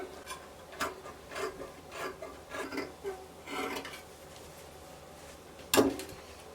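Scissors cut through dress fabric along the body and neckline in a series of soft rasping snips and rubs, with a sharper clack near the end; no one speaks.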